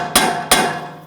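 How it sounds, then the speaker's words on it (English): Two sharp, ringing hammer strikes on a chisel driven into the steering knuckle of a 2006-2009 Audi S4, close and loud, each blow decaying with a metallic ring. "I'm just going to use a chisel just to widen this."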